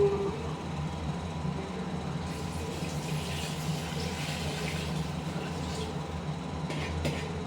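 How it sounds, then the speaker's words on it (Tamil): Water pours steadily into chicken cooked in masala in a pot, a continuous rushing, splashing flow that lasts throughout and is fairly loud, with no talking. "இப்போ வந்து இதுக்கு தேவையான தண்ணியை சேர்த்துருவோம்"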